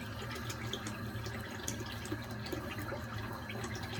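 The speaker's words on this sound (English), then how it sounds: "Gonna add a little more water in the bowl, because it leaks out for some reason" Water trickles and splashes softly into a shaving bowl, a quiet continuous pour with small drips, close up and alone.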